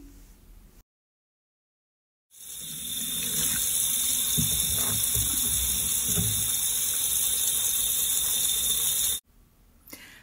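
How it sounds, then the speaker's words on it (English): Warm tap water running steadily into a sink during hand washing, a continuous close hiss and splash lasting several seconds with small splashy variations, no talking, preceded and followed by brief quiet room sound. "you need warm running water and soap to wash your hands thoroughly"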